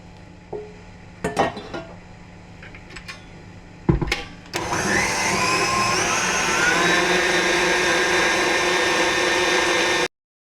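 Electric hand mixer beating chocolate and orange cake batter in a bowl: a steady, loud whir running for several seconds, after a few clinks and knocks of utensils against the bowl.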